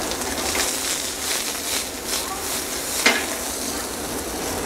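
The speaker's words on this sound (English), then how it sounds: "a little bit of blended oil, sauteed in some yellow onions" Yellow onions sauteing in blended oil in a restaurant kitchen pan for shrimp and grits, a steady broadband sizzle with one brief louder clink partway through, no talking.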